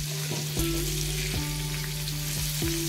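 Stuffed bangda mackerel frying in oil in a pan, a loud close steady sizzle with a constant hum beneath and a few clinks and scrapes as the fish is handled.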